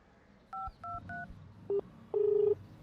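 A few short phone keypad beeps, then a single sustained electronic tone like a disconnected-call signal, clear and close with no voices.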